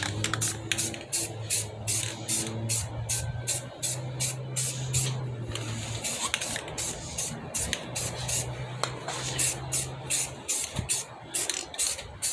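Spray paint hisses onto a wheel rim in rapid short bursts of light misting, a repeated rhythmic spritz close by with a faint hum underneath and no voices.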